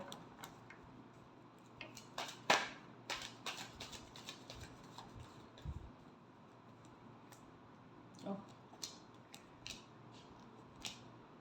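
Tarot cards being shuffled, quiet intermittent papery snaps and soft ticking taps spread over several seconds with one sharper card flick early on, close up and without talk.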